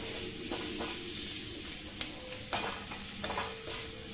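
Fried mushrooms are stirred through a butter sauce in a pan under a constant hissing sizzle, with a few spoon scrapes and taps breaking through at intervals, heard close by.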